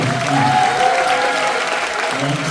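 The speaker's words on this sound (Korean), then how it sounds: "박수 시간 세게 주세요" Applause from a party rally crowd at a Democratic Party joint speech event in Chungbuk, a dense steady roar of clapping that stays strong throughout, with a faint tonal hum running under it.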